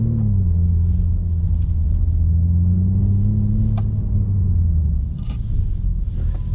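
A 2021 BMW M3 Competition drives with a deep, steady engine drone and low rumble from the cabin, its pitch shifting gently through gear changes, with no talk.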